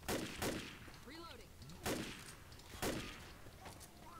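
Gunfire in the video game Left 4 Dead: three or four sharp shots spaced about a second apart, with a faint voice-like sound in between.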